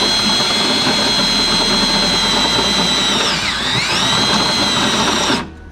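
A power drill bores a 3/8 inch hole with a step-style bit, whining loud and close at a steady pitch. The pitch dips briefly and recovers before the motor cuts off abruptly.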